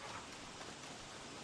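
Rain falls in the game Don't Starve as a faint, even patter, a soft, steady wash of drops with no other sounds over it.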